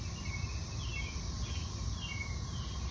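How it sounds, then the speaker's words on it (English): Cicadas make a continuous high-pitched drone, humming steadily in the distance, with faint bird chirps layered over it and no voices. "They're kind of quiet. They look loud. Cicadas are back."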